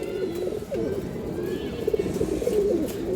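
A pair of large Musoldom pigeons coos steadily up close, soft rolling calls repeating through the whole stretch over a light background hum.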